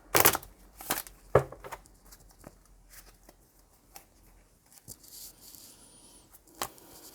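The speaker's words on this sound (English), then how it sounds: "Let's give it an extra shuffle and just clear that energy." Tarot cards are shuffled in a quiet room with a series of soft riffles, slaps and flicks, irregular and close, louder bursts early, then lighter taps scattered through the rest.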